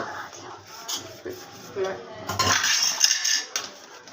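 Plates and cooking pots being washed together at a home kitchen sink, with close, irregular clinks and clatters of dishes and cutlery over running activity, louder and busier in the second half.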